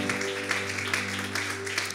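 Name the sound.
applause for the Lord in church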